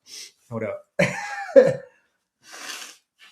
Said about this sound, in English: there's a little sniffle